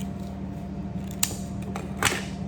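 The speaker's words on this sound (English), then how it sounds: "I'm gonna trim it. I'm gonna give a little cut." Scissors snip a paper stem for a toilet paper tube apple craft, a couple of quick sharp cuts standing out close by over a steady low background hum.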